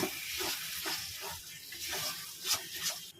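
Jackfruit seed paste stir-frying in a pan gives a soft, close sizzle with repeated scraping strokes of a spatula at a steady rhythm, fairly quiet throughout.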